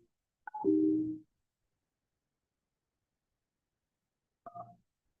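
Telephone touch-tone dialing: a short burst of dial beeps followed by a loud tone, then silence and one more brief tone near the end, clear and alone.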